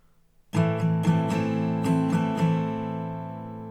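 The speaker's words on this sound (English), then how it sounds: "Now let's go into the strumming, and we have a 2-part strumming here." Acoustic guitar strums a ringing chord in a quick down-up pattern, several strokes with a short pause, then lets the chord ring out.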